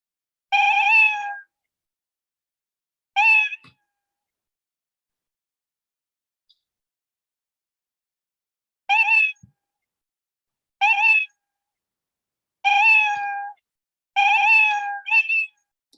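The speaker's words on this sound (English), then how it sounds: "Continuous meow." A cat meow sound effect from a kids' coding program plays on repeat: six short, identical, clear meows spaced irregularly over sixteen seconds, with silence between them.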